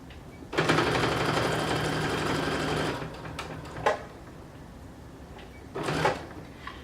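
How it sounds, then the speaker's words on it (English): A sewing machine runs a continuous burst of stitching along a shirt seam, stops, then makes a couple of short clicks and another brief stitching burst, fairly close and alone. "then we're going to back stitch, and then we're going to sew a regular stitch down to the end of the shirt"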